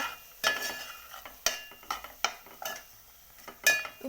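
A spatula clinks and scrapes irregularly against a pan while mint rice masala is stirred and fried, with sharp metallic taps and gentle sizzling between them, close and fairly quiet.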